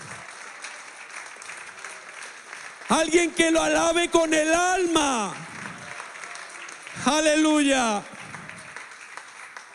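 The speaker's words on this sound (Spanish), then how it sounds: "¿Cuántos le pueden dar un aplauso al Señor?" A church congregation applauds steadily, the dense clapping running beneath a preacher's loud, impassioned exclamations and carrying on between his shouts.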